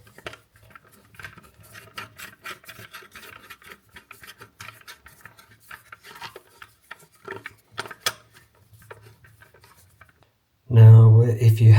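Screws being started by hand into a 13 amp wall socket faceplate: small irregular ticks and scrapes, close and quiet, followed by a sudden loud low hum at the end.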